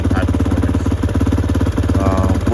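A Tao Tao TBR7 250cc dual-sport motorcycle engine runs with the choke on, a close, loud, rapid chugging pulse that stays steady and even.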